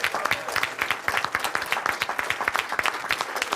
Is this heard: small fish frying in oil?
no